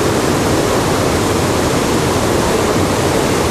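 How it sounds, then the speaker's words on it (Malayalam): A waterfall at Kuthumkal in Idukki district, in heavy flow after a dam was opened during heavy rain, gives a loud, steady, unbroken roar of rushing water with no voices. "കുത്തുങ്കൽ വെള്ളച്ചാട്ടത്തിന്റെ അതിഭീകരമായ ഒരു അവസ്ഥയാണ് നമ്മൾ കാണുന്നത്. ശക്തമായ വെള്ളം ഒഴുകി വരുന്നു."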